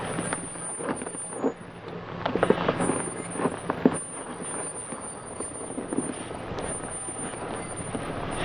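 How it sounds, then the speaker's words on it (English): Brakes of an off-road van squeal and grind as it crawls along the rough Baja Divide 4x4 trail, repeated squeaks and rattles over steady engine and road rumble, no talking. "we're pretty tired listening to the brake squeal"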